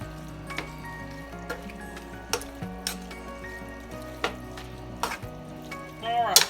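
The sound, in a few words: stirring green chilies into taco rice mixture in pot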